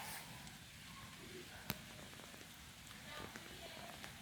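Steady rain patters on surfaces down a side lane near houses in Savannakhet during a storm, a continuous even hiss with one brief sharp tap partway through.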